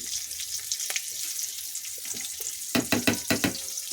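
Cumin seeds and green chillies sizzle in hot oil in a home kitchen, a soft steady frying hiss under scattered crackles, then a few sharper pops and clatters near the end.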